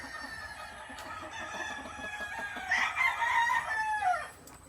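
Gamefowl roosters on a game farm, Machine Kelso and Boston Roundhead crosses, crowing over a faint background, one loud drawn-out crow rising and trailing off near the end.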